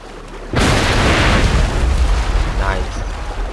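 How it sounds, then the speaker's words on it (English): A ship blowing up in Assassin's Creed 3 after its powder barrels ignite: a sudden loud explosive boom about half a second in, followed by a long rumbling roar of debris and fire that slowly trails off, with a voice briefly under it. "I want to see how the ship explodes."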